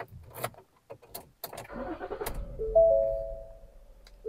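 A Ford Police Interceptor Utility engine cranks and catches, settling into a steady low idle, while a chime tone rings above it; scattered handling clicks come first.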